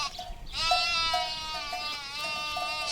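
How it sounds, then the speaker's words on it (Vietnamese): A sheep lets out one long, wavering bleat, loud and close, that carries through to the end without any talk. "Con cừu."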